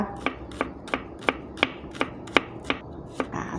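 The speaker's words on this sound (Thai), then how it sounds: "ซอยหอมแดงนะคะ" Shallots being finely sliced with a knife on a board: nine crisp, evenly spaced taps in a steady rhythm, close and fairly quiet, over a low background hum.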